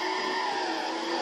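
Tires skid and squeal continuously on a test track as a blue Chevrolet Corvette C5 races in the Forza 4 video game, a loud, steady screech with engine noise beneath it.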